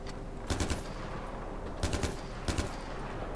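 Automatic gunfire in the video game Far Cry 4 comes in three short rattling bursts at moderate distance, set over a constant game ambience with no speech.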